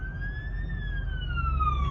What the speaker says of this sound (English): Oh, that's a fire truck.